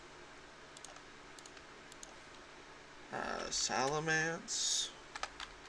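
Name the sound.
typing on a computer keyboard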